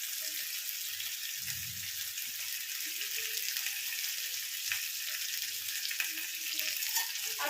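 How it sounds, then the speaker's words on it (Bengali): Fish frying on a tawa in a little oil, a steady bright crackle and hiss running throughout with scattered pops and a few soft low knocks, close and fairly quiet. "ফুটফুট করে ফাটছে"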